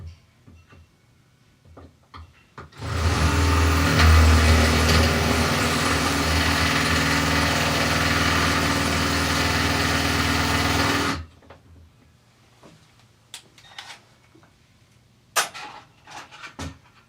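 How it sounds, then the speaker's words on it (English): A power drill fitted with a DeWalt drill bit runs in one steady, loud, high whine for about eight seconds, framed by quieter handling clicks and taps before and after. "DeWalt drill bits. I bought these more recently, so maybe they will be more sharp."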